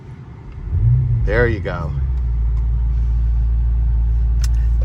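BMW M5 Touring engine in Sport Plus mode, a steady deep low rumble that swells and then holds constant inside the cabin, with a brief spoken phrase over it.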